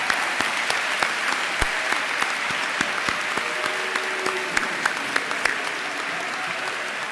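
Audience applauding at a Georgia Gwinnett College spring commencement ceremony to honor military service members, steady sustained clapping from a large crowd with a few sharper individual claps standing out.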